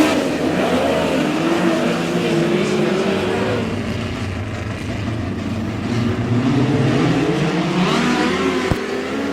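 Midget race cars roaring through a dirt-track heat race at Humboldt Speedway, a steady loud engine drone with rising and falling pitch as the pack passes.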